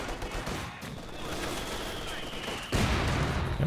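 Rapid bursts of light machine gun fire and scattered gunshots crackle through a Company of Heroes 2 battle, with a heavier boom-laden stretch near the end.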